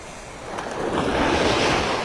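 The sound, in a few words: ocean waves breaking on Vanderbilt Beach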